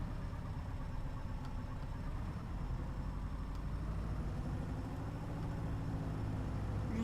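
A light aircraft engine drops to idle power, producing a steady, low, even drone with a faint rumble that stays constant and fairly quiet throughout.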